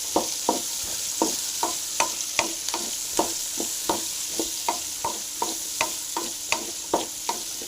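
Onion and garlic frying in a pan, a steady close sizzle broken by regular scraping strokes of a spatula, about two a second, with no voices.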